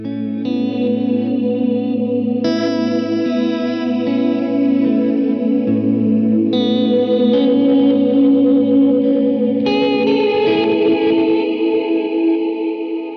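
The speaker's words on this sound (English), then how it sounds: "And then I have bank 6 as my reverse delay sounds" Sustained electric guitar chords swell in with a reversed-delay attack, washed in long reverb and chorus-like shimmer, changing every few seconds.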